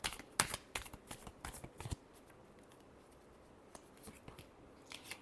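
A deck of tarot cards is shuffled up close in a quiet room, with rapid rustling riffles and sharp flicks in bursts, then softer scattered taps.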